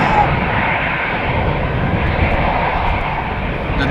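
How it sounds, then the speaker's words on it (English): An EasyJet Airbus jet's engines give a steady, broad roar at Amsterdam Schiphol Airport near runway 36L, constant and loud across the whole span. "Airbus from EasyJet. Going to take off probably before..."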